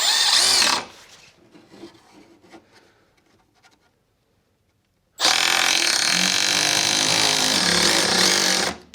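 A power drill driving a screw into a wooden window jamb, with a short whir at the start, quiet handling, then a long steady loud drive of several seconds, close by with no talk.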